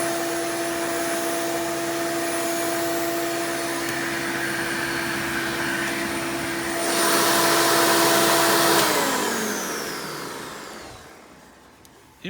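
A Hoover Elite 350 canister vacuum cleaner runs with a steady high-pitched motor whine, surging louder for a couple of seconds before spinning down as it switches off.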